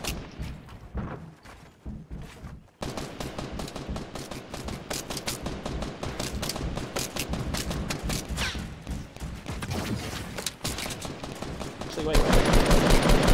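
Rapid video game gunfire, dense bursts of automatic shots crackling almost continuously, loud and close, with a louder blast near the end.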